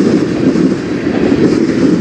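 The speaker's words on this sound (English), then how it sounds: "Pretty long train for Fostoria" A long Norfolk Southern or CSX freight train rolls steadily past at night in Fostoria, Ohio, a loud, continuous rumble of wheels and cars with faint clickety-clack throughout.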